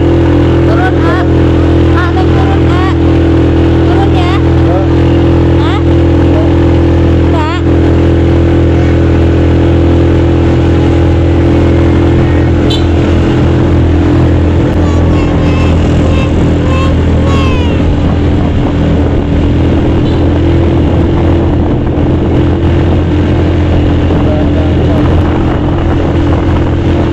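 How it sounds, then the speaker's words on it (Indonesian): An old, worn-out motorbike labors up a steep hill on a rough road to a hilltop viewpoint in Sukabumi, West Java. Its engine drones loud and steady throughout, with people talking over it. "hampir aja motor butut saya ini susah untuk naik"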